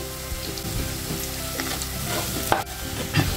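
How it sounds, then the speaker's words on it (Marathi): Masala for undhiyu sautés in oil on a medium flame, giving a close, steady sizzle broken by scraping stirs and a couple of sharp clinks of a utensil against the pan. "हा मसाला मीडियम फ्लेमवर 3 ते 4 मिनिटं तेल सुटेपर्यंत परतून घ्यायचा आहे।"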